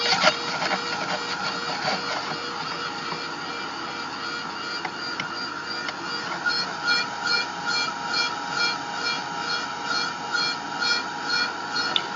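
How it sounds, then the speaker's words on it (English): A heat gun blows steadily to set India ink on an art journal page, a continuous broadband whoosh with a faint pulsing rattle, close and alone with no talk. "hit it again with the heat gun for a few seconds here, just to set the India ink."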